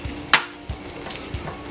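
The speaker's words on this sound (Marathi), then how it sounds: "दोन चमचे तूप घेऊन आपण त्याच्यावर या शेवया परतून घेणार आहोत।" Vermicelli roasts in ghee with a low background sizzle, punctuated by a sharp utensil clink and a few softer scraping stirs.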